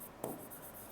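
Chalk or marker writing on a classroom board during a maths lesson, a single brief scratchy stroke near the start followed by faint room tone, no talk.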